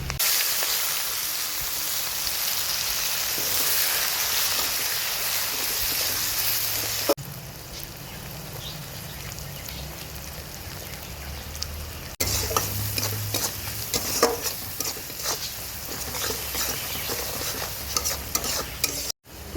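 Potatoes frying in oil in a pan for hotel-style egg curry, a steady loud sizzle with repeated stirring and scraping of a spatula throughout, no talking.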